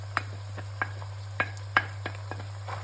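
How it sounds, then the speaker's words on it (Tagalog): Carrots, celery and ground meat stirred in a hot pan for lasagna sauce: a faint sizzle with a handful of sharp scraping and clicking strokes of a spoon against the pan, spaced irregularly over a steady low hum. "Haluin lang natin."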